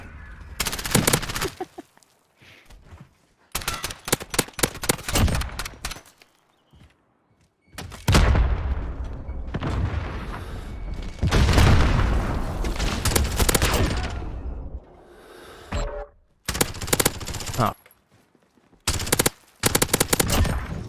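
Rapid automatic gunfire and bursts of shots trade back and forth in a video game shootout, loud and close, coming in several volleys separated by short pauses.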